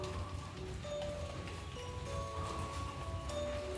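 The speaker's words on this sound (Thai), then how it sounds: "ปอนออกมาลูกฝนตก" Steady, dense patter of rain falling on a surface, continuous and moderately loud, with a faint tonal hum in the background and no voices.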